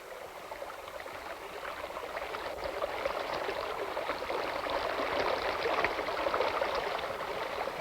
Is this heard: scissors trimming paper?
no